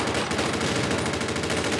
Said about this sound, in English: this turned out a freaking huge firefight